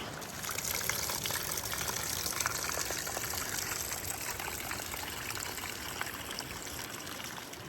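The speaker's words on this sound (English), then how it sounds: "it's a beautiful spate, wild moorland river in mid Devon on Dartmoor on a wet day." A wild moorland river in spate on Dartmoor in mid Devon on a wet day rushes steadily, a loud, continuous broad roar of fast water close by with no voices.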